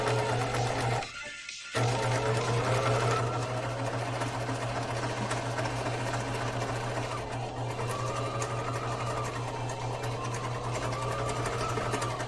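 A sewing machine stitches steadily while winding a bobbin, a continuous close mechanical whir with a steady low hum, briefly interrupted near the start and then running on evenly without speech.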